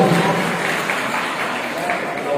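An audience in a girls' college applauds Doctor Rasool Nizam at a poetry recitation, a continuous even wash of clapping with no breaks.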